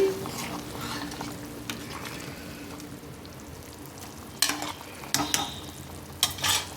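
Country chicken curry is stirred in a pot over a soft background simmer and sizzle, with scraping spoon strokes and a few sharp clatters against the pot toward the end.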